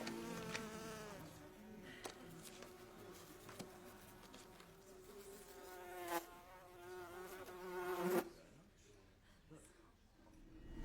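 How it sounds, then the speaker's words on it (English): Loud, steady buzzing of insects swarms close by in a zombie scene, rising in intensity before cutting off abruptly near the end, with faint voices beneath. "I dare say the buzzing is frightfully loud"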